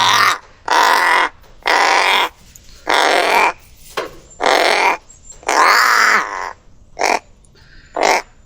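A crow on a farm caws loudly and close by, about nine harsh calls in an uneven rhythm with short silent gaps between them, with no talk.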